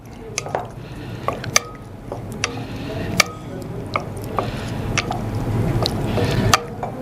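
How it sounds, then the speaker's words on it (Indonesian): Snapper fish being stirred with egg, salt and pepper batter gives soft wet squishes and light clicks in an irregular rhythm, close up. "Ini kita tinggal aduk."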